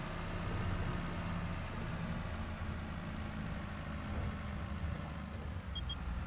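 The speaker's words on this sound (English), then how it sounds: "And our journey home in the new tractor starts right now." A new tractor's engine drones steadily while driving, a constant low rumbling hum with no breaks, close and fairly loud throughout.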